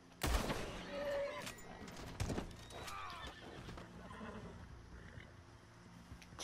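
A horse neighs and whinnies loudly in a video game, with clip-clop hooves and faint gunfire in the background, the whinny rising early and then fading into a busy, continuous game soundscape.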